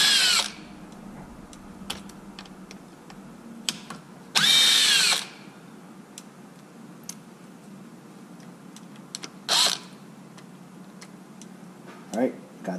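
A power drill removing screws from the tray of a Kraton 8S RC car: several short whirring drill bursts, one long and loud, amid small clicks and tool handling, with a person talking quietly in between.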